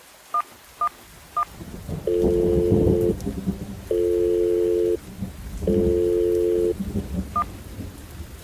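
A telephone is dialed during heavy rain: three short keypad beeps, then three long steady dial tones, with rain hissing steadily underneath.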